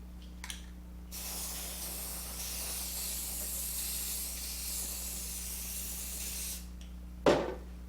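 Aerosol spray paint can released in one long continuous hiss of about five and a half seconds, close and steady, bracketed by short bursts and a can clack, used while restoring a concrete rabbit ornament.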